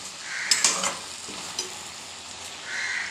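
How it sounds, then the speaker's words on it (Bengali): Malabar spinach and shrimp frying in a pan, being stirred; soft steady sizzling broken by a few scraping stir strokes, with a crow cawing faintly in the distance. "এবার এটা জলটা শুকানো পর্যন্ত একটুখানি নেড়ে নেব"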